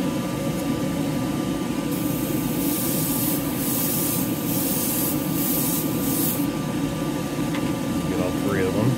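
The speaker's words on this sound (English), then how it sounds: "Let's do a couple little tack coats." Aerosol can of Cobra Motor acrylic paint sprays light tack coats, a loud continuous hiss with several brighter bursts as the nozzle is pressed, close and steady throughout.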